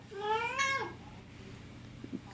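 A house cat gives one clear, rising-and-falling meow close by, followed by quiet room tone and a couple of faint soft knocks.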